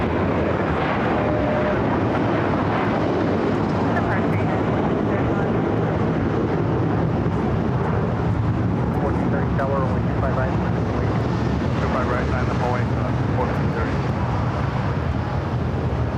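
A United Boeing 757-300 bound for Honolulu rolls for takeoff on runway 25 Right at LAX, a loud sustained jet roar with people talking over it.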